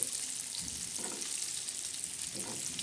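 Fish frying in hot oil gives a steady, close crackling sizzle, with hot oil spooned over the fish, and the rough hiss holds even for nearly three seconds.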